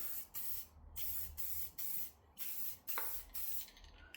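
Bursts of spray paint hiss in a dim garage as aftermarket wheels on a 2020 Subaru WRX get coated, about seven short sprays separated by brief pauses, close and steady.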